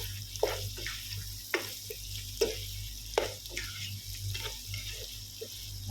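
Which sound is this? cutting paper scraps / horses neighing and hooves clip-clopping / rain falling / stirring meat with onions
stirring meat with onions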